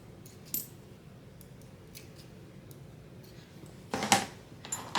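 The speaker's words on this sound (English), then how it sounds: "I'm going to snip off those pieces of thread." Scissors snip off loose thread ends from a sewn sling bag, giving a few sharp, close snips spread out over a few seconds, with the loudest cut near the end over quiet room tone.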